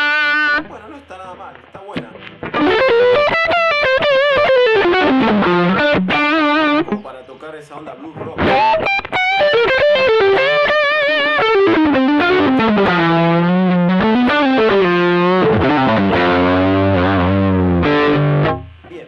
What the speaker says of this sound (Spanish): No sé si es una distorsión para solos.